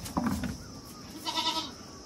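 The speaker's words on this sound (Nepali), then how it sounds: "आज चाहिँ म बाख्रालाई दाना दिन आएको है" A goat bleats once, fairly faint, during feeding time with grain on a farm, after some brief rustling and handling sounds at the start.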